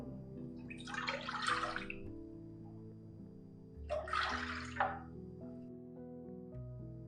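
Water pours from a vessel into a cooking pot for boiling lentils in a kitchen, two short splashing bursts, fairly faint, over a low steady background hum.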